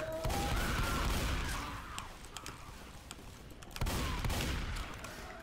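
Gunfire in the video game Left 4 Dead 2, bursts of rapid shots with crashing impacts, the first volley fading before a second loud burst, all fairly distant and unvoiced.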